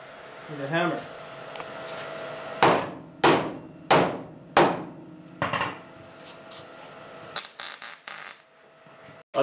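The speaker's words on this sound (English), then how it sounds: "Need a hammer." Sharp metallic hammer blows on a car engine brace during a 1972 Celica pro-touring build, four loud evenly spaced strikes followed by a quicker cluster of lighter taps, with talk heard at the start.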